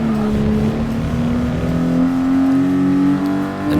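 A Toyota GR Supra RZ engine in Gran Turismo Sport revs hard and climbs in pitch through the gears, loud and continuous, with a rising whine over the racing drone.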